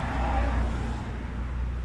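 Nissan 350Z with a makeshift straight-pipe exhaust mod, washers spacing a gap in the pipe, running steadily with a deep, even low rumble throughout, close and loud with no talking.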